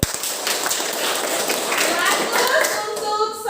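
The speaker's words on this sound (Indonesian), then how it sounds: "Tepuk tangan dulu." A classroom of students claps together after the teacher's prompt, a dense run of hand claps lasting a few seconds with light voices mixed in.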